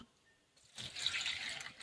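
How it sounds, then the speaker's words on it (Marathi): After a moment of near silence, water pours steadily into a small pot of semolina vadis, a soft splashing that runs to the end. "पूर्ण पाण्यात भिजतील असं पाणी टाकायचं आहे त्याच्यामध्ये"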